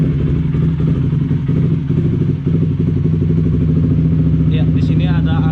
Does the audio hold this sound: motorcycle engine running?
yes